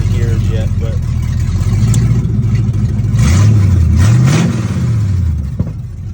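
A 1988 Ford Mustang GT V8 runs steadily and loud throughout, its drone swelling as the revs rise and fall midway before settling back.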